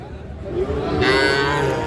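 Cattle moo loudly at a village livestock market among young bulls and heifer calves, a long drawn-out low call rising partway through, near and clear.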